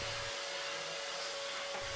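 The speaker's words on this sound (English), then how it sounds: "first use the HEPA filter vacuum cleaner where available to clean off your boots, disposable overshoes and coveralls" A HEPA filter vacuum cleaner runs steadily while cleaning boots, disposable overshoes and coveralls during asbestos decontamination, a constant loud whine and rushing airflow with slight changes in the low hum, with no talk.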